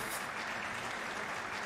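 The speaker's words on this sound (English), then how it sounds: "They could have found a longer loop for clapping." Looped clapping effect from the video game Trails of Cold Steel, a dense, steady patter of many hands filling a short stretch without pause.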